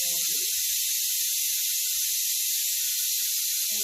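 A pressure cooker releases steam through its valve during a manual release: one steady, loud, close hiss that runs unbroken from start to finish, with a few faint kitchen clatters beneath it.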